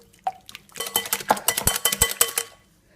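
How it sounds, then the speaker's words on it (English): Chocolate being mixed into lava cake batter in a bowl, with a quick run of clinking, scraping utensil strokes against the bowl, fairly close and moderately loud, with no talking. "add it to your lava cake batter. And now mix that in"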